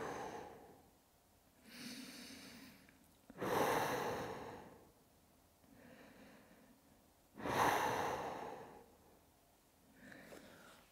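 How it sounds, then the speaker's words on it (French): Slow, deep breaths taken while curled in a fetal position at the end of a prehab and cardio exercise session, several long soft inhales and exhales spaced a few seconds apart, close and quiet. "Et on vient respirer"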